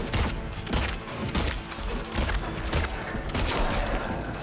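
Gunfire in the Silent Hill 2 Remake video game: a loud, continuous burst of repeated shots that echoes throughout, alone with no talking.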